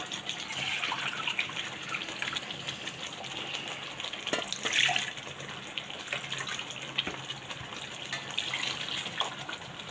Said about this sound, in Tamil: இந்த ஸ்டேஜில் நம்ம கொஞ்சம் தண்ணி ஊற்றிக்கலாம்.